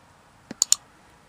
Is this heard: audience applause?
no